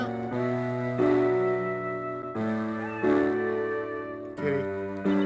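A cat in the game Professor Layton vs. Phoenix Wright meows several times in a row, drawn-out tonal mews close and clear, with no voices.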